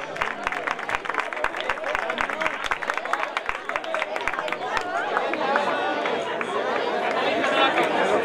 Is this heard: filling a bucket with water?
no